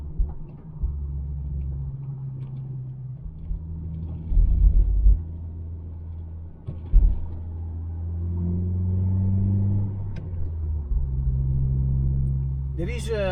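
A Honda CR-Z with a Spoon N1 exhaust and sub silencer drives by with a deep, low exhaust rumble that swells as it accelerates, the engine droning steadily throughout.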